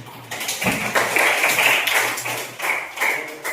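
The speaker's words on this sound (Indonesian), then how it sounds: "Kasih tepuk tangan dulu." Applause in a classroom: a group of students claps in a dense patter of taps that swells and fades over a few seconds, near and fairly loud, with no talking.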